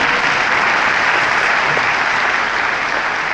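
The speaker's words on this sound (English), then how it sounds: "Pause for applause." Dense, steady clapping from a crowd at a hospital rally for New Zealand healthcare in Dunedin, loud and sustained without letting up.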